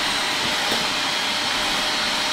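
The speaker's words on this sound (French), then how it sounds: "ma mère a décidé de débrancher la multiprise et de brancher son aspirateur." A household vacuum cleaner plugged into a power strip runs in a continuous, even, airy drone throughout, with no one speaking.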